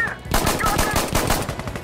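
A rapid string of suppressed gunshots from a weapon in the tactical shooter Insurgency Sandstorm, close and punchy muffled pops in a steady automatic rhythm lasting under two seconds.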